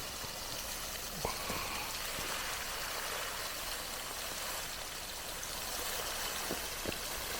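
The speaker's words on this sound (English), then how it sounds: "it's like a big 20-foot stream of water done by Thomas Edwards' own muscles" Water pours steadily from a tall garden cascade in a wooded setting, a continuous rushing wash with scattered splashy drips, moderately distant and unbroken throughout.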